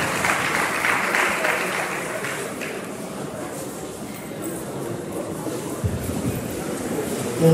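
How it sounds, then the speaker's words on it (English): Applause from a university lecture audience for a guest lecturer, a broad diffuse wash of clapping that fades somewhat midway, with some low rumble and a brief voice near the end. "Please, a round of applause for that."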